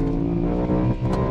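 The engine of a high-mileage BMW E92 M3 with 153,500 miles revs up briefly after a downshift, a loud, steady, tonal growl heard from inside the car.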